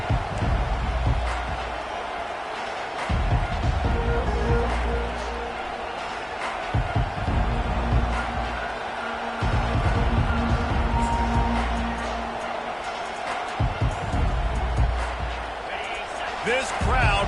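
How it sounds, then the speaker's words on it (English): A roaring stadium crowd fills a college football game against Alabama at kickoff, a loud sustained wall of cheering and noise throughout, with a commentator talking over it. "This crowd bringing an ear-splitting welcome to their visitors."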